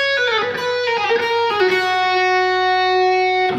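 Distorted electric guitar plays the second half of a solo: a short, stilted lead phrase of sustained bent notes and quick pull-offs, loud and close, ending on a long held note.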